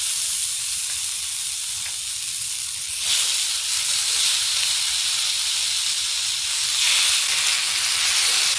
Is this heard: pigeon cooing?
no